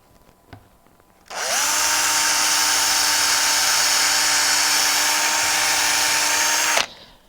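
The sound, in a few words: drill drilling a hole in a small wooden gift box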